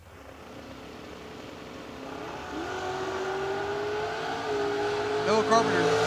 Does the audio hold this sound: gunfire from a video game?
no